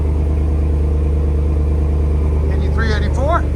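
A 2022 RAM 2500 with a 6.4L HEMI V8 and a Flowmaster Outlaw exhaust idles steadily with a deep, even low rumble. Near the end a person's voice briefly rises over it.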